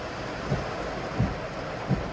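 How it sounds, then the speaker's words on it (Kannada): Heavy rain that started suddenly pours outside a house, a steady, moderately quiet hiss with three soft thumps spaced through it. "ನಾನು ಬಂದಾಗನೇ ಮಳೆ ಸ್ಟಾರ್ಟ್"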